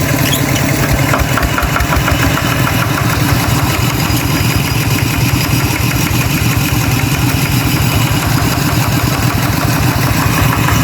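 A farm tractor's engine runs at a steady idle with a rapid, even chugging pulse, close and loud, and no one speaks over it.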